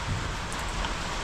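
Steady rain falling outdoors at a house construction site, a dense continuous hiss with no gaps across the short stretch and no voices.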